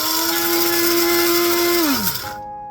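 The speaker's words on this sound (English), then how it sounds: "I don't want to grind it too finely because if I do, as soon as I add the liquid to it, it's going to be mush" A blender grinds oats for a facial scrub, a loud high steady whine that drops in pitch as the motor winds down and stops after about two seconds.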